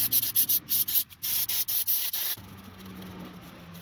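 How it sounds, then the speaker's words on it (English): A rag soaked with brake cleaner is rubbed over a push mower engine in quick rhythmic strokes, close and loud, and then it stops and only a faint background hum remains. "Get a little brake clean and a rag here."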